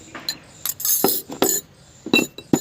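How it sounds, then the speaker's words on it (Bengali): Sugar is poured into a metal mortar with rattling, clinking bursts of granules striking the bowl in uneven spurts, close and fairly loud, with no voices. "এবার আমি এই যে চিনিগুলো ঢেলে দিচ্ছি।"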